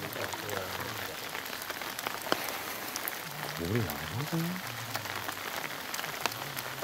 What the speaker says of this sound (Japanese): 雨すごいもん